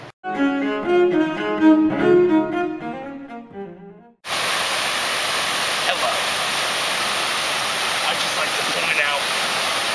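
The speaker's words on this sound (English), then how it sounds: "that that's the waterfall" A garden waterfall pours in a steady, loud broadband rush that fills the second half, right after someone speaks over a quieter background.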